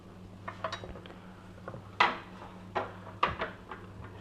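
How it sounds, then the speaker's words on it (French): A kitchen knife slices a flat cut off a peeled potato, then trims a thick slab about 1 cm across, giving a few sharp, close chopping knocks against the board in an otherwise quiet kitchen. "Je fais une coupe plate pour ensuite couper au couteau une bonne tranche d'environ 1 cm."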